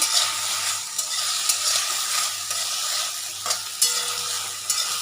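Small batch of potatoes frying in a home kitchen pan, a steady close sizzle broken by repeated scraping stirs of the spatula, with no voices.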